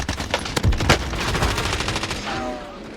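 A sniper rifle fires in a Warzone match, with a couple of heavy, punchy reports early on followed by a dense spray of rapid gunfire that keeps echoing and rattling loudly throughout.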